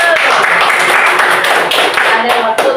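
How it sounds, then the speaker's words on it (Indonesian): Students in a primary-school classroom clap together in a dense, steady burst of applause that fills the room, with sharp claps throughout and a few voices mixed in. "tepuk tangan dulu"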